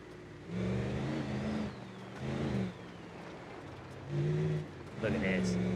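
Engine of a 6x6 Baja 2022 Ram 2500 truck in the BeamNG Drive video game, revving in several bursts that rise and fall between quieter idling stretches, fairly faint overall.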